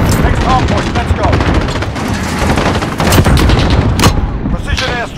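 Dense enemy gunfire in Call of Duty: Modern Warfare multiplayer: rapid overlapping bursts and single cracks pile up loud and close, with a few heavier booms and a voice talking over part of it.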